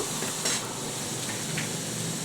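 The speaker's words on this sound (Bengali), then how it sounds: "কেটে রেখেছিলাম 2টো টমেটো, একটু হালকা হাতে নেড়ে চেড়ে নেব" Chopped tomatoes for butter chicken are stirred in a pan, giving a soft, faint sizzle with a couple of brief scraping touches over a quiet background.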